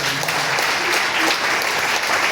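Dense, steady applause from a church congregation, loud and continuous throughout with no pauses.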